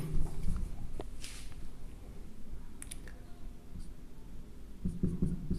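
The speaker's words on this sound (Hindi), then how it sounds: "पहले लिखते हैं, ठीक है।" Pen writing on paper during an English class, faint scratchy strokes with a few light clicks and soft handling noises, quiet and close throughout.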